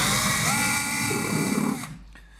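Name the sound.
drill boring a hole in wood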